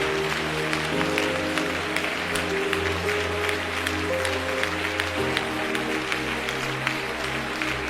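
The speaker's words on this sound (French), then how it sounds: "Tape bien tes mains, commande-les de partir." A congregation at a Pentecost mass prayer service claps hands steadily and loudly, the applause filling the room continuously over sustained organ or keyboard chords.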